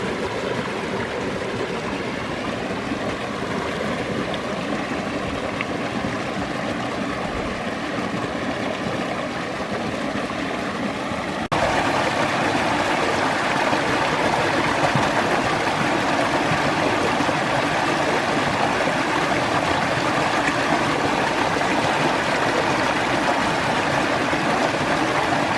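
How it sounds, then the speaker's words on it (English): Two small forest streams meet at a canyon head in Bankhead National Forest, Alabama, making a steady, continuous rushing and trickling of water, moderately close, with no voices. "Junction of two little streams, the little side channel."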